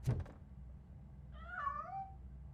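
A cat meows once in the RoboCop: Rogue City video game, a clear drawn-out meow with falling pitch, heard alone after a short thump at the start.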